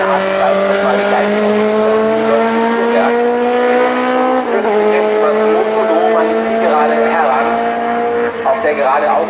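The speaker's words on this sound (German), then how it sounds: "Auf der gerade August Deutsch in seinem Porsche vorbeigedüst ist, mit einer Rundenzeit von 2 Minuten 11" A Porsche race car at a historic CanAm and Supersports race at Hockenheim roars past on the straight, its loud engine tone dropping in pitch midway, with a commentator talking over it.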